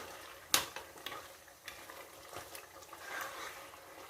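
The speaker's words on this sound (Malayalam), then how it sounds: "മഞ്ഞൾപ്പൊടി ഇട്ടിട്ടൊന്ന് ഇളക്കി നോക്കട്ടെ എങ്ങനെ ഉണ്ടെന്ന്" Turmeric powder being stirred into a frying pan: faint scraping strokes with one sharp clink near the start and quiet sizzling underneath.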